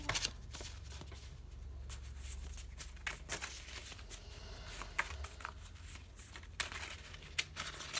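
Tarot cards are shuffled close up in a run of soft riffling and flicking, with occasional sharper snaps over a quiet room.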